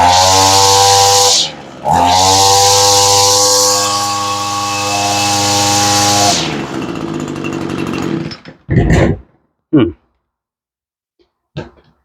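A Stihl SRM 225 string trimmer's two-stroke engine runs loud and steady at high idle, dips briefly, then roars again for several seconds before cutting out, followed by a few short knocks and clunks.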